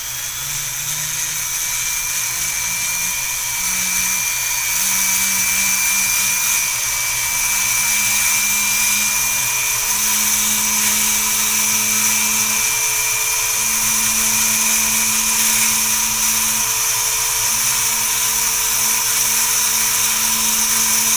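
A high-pitched rotary grinder whines continuously and loudly up close as it cuts a small divot into a phoenix stone to shape the top of a heart, holding a steady drone with slight shifts in pitch under load.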